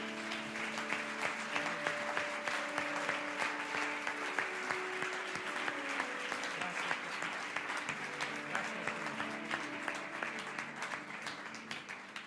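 A church congregation gives a strong, sustained round of applause for the Lord, crowd clapping dense and steady over a soft held organ or keyboard chord, fading a little at the close.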